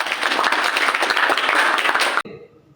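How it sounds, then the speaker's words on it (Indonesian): A room full of people applauding, loud and dense, then the clapping cuts off abruptly near the end. "Tepuk tangan."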